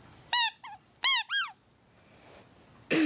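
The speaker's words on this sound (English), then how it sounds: "It squeaks." A worn ice cream cone dog toy with a paw print squeaks loudly four times in two quick pairs of high rising-falling squeals, close and alone, followed by a brief rustle.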